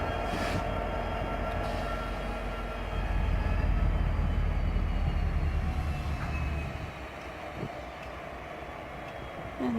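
Long freight train rolling into the Winnemucca depot and slowing to a stop, a low rumbling drone that rises in the middle, then eases off with a faint squeal near the end.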